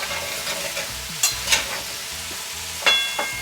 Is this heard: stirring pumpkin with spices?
yes